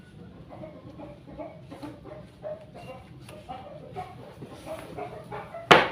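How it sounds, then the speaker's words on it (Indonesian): A chicken clucks repeatedly at close range, with a dog barking amid other background noise and a sudden loud burst at the end. "Aduh, suara ayam."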